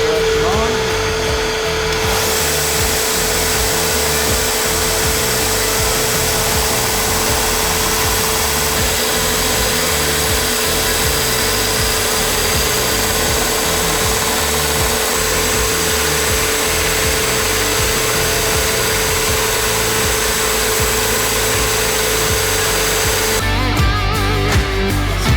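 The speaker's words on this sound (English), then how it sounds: "Now we're ready to start grinding." A Kick-Eez recoil pad is ground on a grinding fixture, a loud continuous abrasive whine with a steady motor hum that holds nearly unchanged for over twenty seconds before shifting at the very end.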